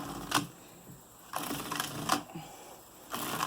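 A Suitcase Superba knitting machine knits rows as the carriage is pushed across in three separate passes, each a rattling, whirring sweep of needles with a sharp clack at its start and end, close and moderately loud.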